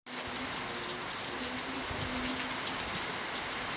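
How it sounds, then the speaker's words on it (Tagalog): Heavy rain pours down in a sudden downpour, a soft, steady, even hiss that holds at the same level from start to finish, with no voices. "biglang bubuos, napakalakas na ulan"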